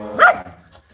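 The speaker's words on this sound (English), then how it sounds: "They don't come and bark right in your ear like Dainty wants to do now." A single sharp, close bark from a dog, with the rest of the moment quiet and no talking.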